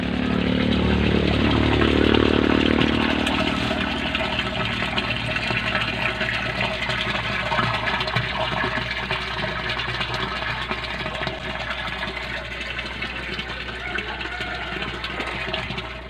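Water gushing steadily from a repaired water pump pipe, a loud continuous rushing flow with the pump running, strongest at the start and then settling into an even stream.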